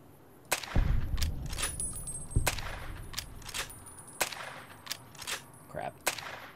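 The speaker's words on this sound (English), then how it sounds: "As soon as I open fire." Gunfire in Fallout: New Vegas, a string of sharp, separate shots at irregular gaps, some with a weapon suppressor, loud and close, with a few faint interjections between them.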